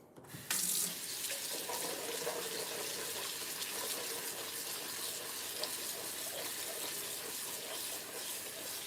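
Green beans rinsed under a running kitchen tap, a loud steady gush of water splashing into a sink that starts abruptly and continues unbroken, close and dominant.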